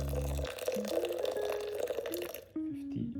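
Water poured from a kettle into a French press for a coffee bloom, a close, steady gurgling stream that runs for a few seconds and then cuts off, with soft low tones underneath.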